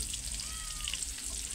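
Garlic and onion frying in a pan beside meat, giving a steady, even sizzle with faint crackles that continues at the same level throughout.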